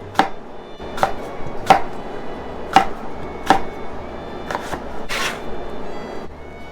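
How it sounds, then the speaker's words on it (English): A knife chops an apple into big chunks on a board, with about eight sharp, evenly spaced thuds standing out clearly over a quiet background. "I'm just going to chop this into big chunks."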